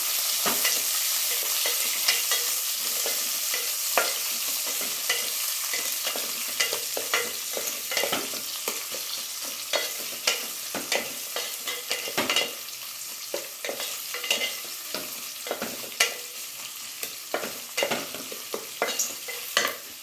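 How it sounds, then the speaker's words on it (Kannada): Onions sizzle and fry in hot oil after mustard seeds crackle, for a Kannada home-style rasam and potato-brinjal gojju, a steady close sizzling hiss broken by repeated sharp scraping stirs, with no talking. "ಸಾಸಿವೆ ಚಟ್ಪಟ್ ಅನ್ನುವಾಗ ಈರುಳ್ಳಿ ಹಾಕ್ತಿದ್ದೀನಿ ಈರುಳ್ಳಿನ ಫ್ರೈ ಮಾಡ್ಕೊಂಡ್ರೇನಾ"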